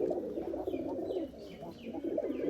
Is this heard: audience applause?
no